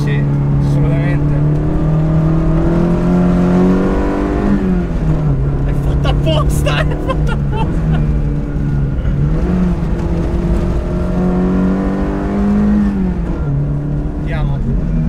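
A Toyota AE86 engine revs and drops through corners in third gear, the steady harmonic drone rising and falling as the car is driven hard, heard close from inside the cabin with occasional voices.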